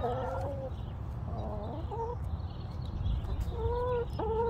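Chickens outdoors give several short clucks and calls at intervals, fairly close but quiet, over a low background rumble.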